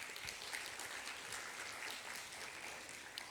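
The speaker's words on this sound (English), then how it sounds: "give them an applause, if you may, to thank the lecturers for all the hard work they have done" Graduation audience applauding the lecturers, a steady, fairly faint patter of many hands that continues evenly throughout.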